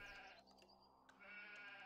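Sheep in a video game bleat in a clear, wavering, nasal cry, one near bleat at the start and another rising again toward the end after a short quiet gap.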